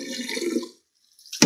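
Water is poured out of a bowl used to soak collard greens, a brief gurgling splash that trails off into silence before a sharp splash or clatter at the end.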